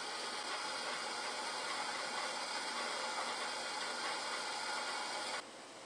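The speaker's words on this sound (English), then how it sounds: "And it's blasting out the steam." Steam blasts steadily from a copper stovetop water distiller as one continuous, loud, close hiss, which drops off sharply near the end, with no voices.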